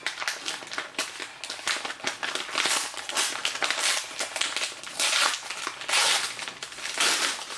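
A mailed package gets opened by hand without scissors: continuous loud crinkling, tearing and crushing of packaging material close by, rapid and irregular throughout.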